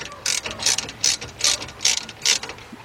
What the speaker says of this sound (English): Take your 3/8 drive ratchet